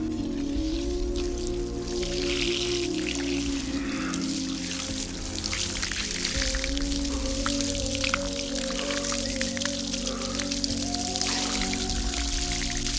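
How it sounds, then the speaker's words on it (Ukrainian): A shower runs steadily, with a continuous close hiss of falling water and a low humming tone underneath, and no talking. "Я прийму цей душ"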